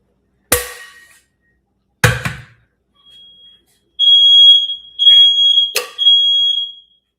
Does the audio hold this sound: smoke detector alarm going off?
yes